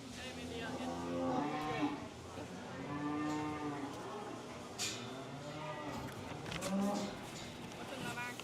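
Cattle low repeatedly in a beef show ring during judging of a champion commercial cow-calf pair, several drawn-out moos rising and falling over arena murmur and an announcer's voice.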